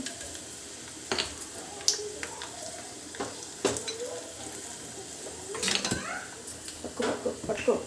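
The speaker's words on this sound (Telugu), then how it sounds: "పోపు వేగనిద్దాము" A tempering of mustard, cumin, garlic, curry leaves, asafoetida and a little onion sizzles in hot oil in a pan, with intermittent crackles and spoon-against-pan clinks while someone talks nearby.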